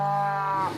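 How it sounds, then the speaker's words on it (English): A single long, loud cow moo from a herd of cattle rings out alone as a steady low harmonic drone for almost a second, then trails off at the end. "bunch of cows."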